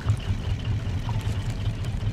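A boat engine in the Raft video game runs continuously, a low, steady rumbling hum at moderate level with no other sounds over it.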